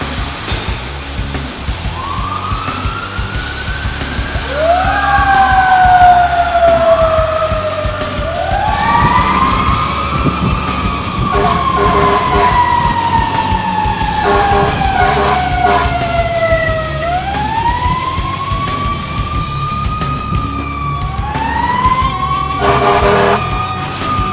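A loud Fresno fire engine siren wails continuously on a medical call, its pitch sweeping up and down in repeated rising and falling cycles, close and steady throughout.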